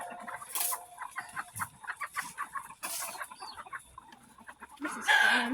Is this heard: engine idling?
no